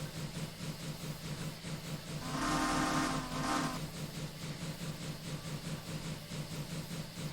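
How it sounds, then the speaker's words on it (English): A steam locomotive whistle on the Duchess of Sutherland in a train game, one sustained shrill blast of about a second and a half over a quiet hissing, chuffing engine background. "I really do like it having a dynamic whistle which you can just hold and it will loop repetitively"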